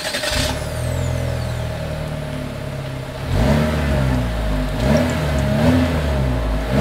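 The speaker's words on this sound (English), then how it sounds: "As always, here is that exhaust clip." Exhaust of a 2024 Chevrolet Malibu revving from idle, a steady low drone that jumps at about three seconds into a louder rising rev, then swells and dips through several more throttle blips, close and alone.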